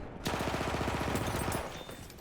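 Rapid automatic gunfire in the video game Battlefield 1, a loud close burst of evenly spaced shots lasting over a second, then fading.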